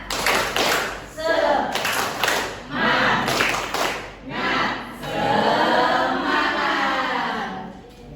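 A seventh-grade class performs a rhythmic 'tepuk semangat' clapping routine, with loud clapping in patterned bursts separated by short pauses and voices chanting along.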